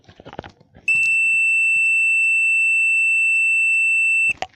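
A multimeter continuity test gives a loud, steady, pure-tone beep lasting about three and a half seconds, with faint handling clicks before and after it.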